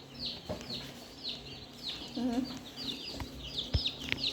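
Chicks and chickens cluck and chirp softly nearby, with several short calls scattered across a quiet background.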